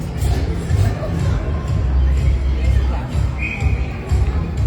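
Crowd noise fills an ice hockey arena during a minor-league game between the Blizzard and Thistles, a steady loud roar with shouts rising and falling, and a commentator talks over it.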